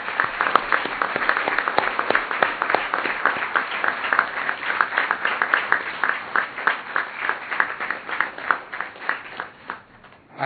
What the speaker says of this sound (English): I would like all of us to give them a big round of applause.